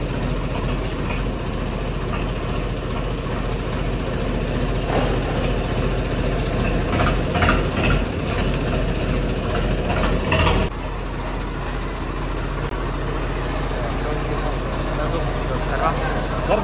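A tractor engine idles steadily with a low, continuous rumble throughout, loud and close, while people talk over it.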